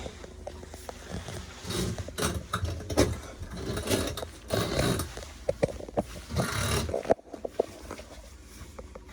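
A retractable shower faucet hose on a 2014 Boston Whaler 315 boat slides and clicks back into place with scraping, ratcheting mechanical sounds, close by, ending in a soft knock.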